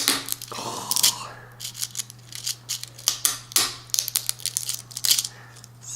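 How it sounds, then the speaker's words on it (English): Blades snipping through the hard, tough rattle of a rattlesnake, a loud close run of crunchy cuts and cracks with crinkling between them over a steady low hum. "I don't think it's designed for people to cut them in half."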